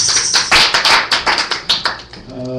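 A run of about a dozen sharp hand claps in quick, slightly uneven rhythm, loud and close, given as praise at a church gathering, fading out at the end as a low tone enters.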